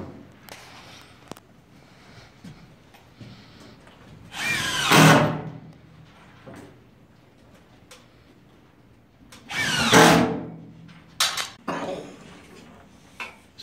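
Power drill driving screws through resilient channel into a ceiling, two loud whirring bursts separated by quieter clatter and handling noises, with a shorter burst near the end.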